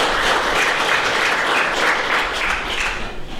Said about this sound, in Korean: 준비해 주신 분들께 감사의 박수 한번 드릴까요?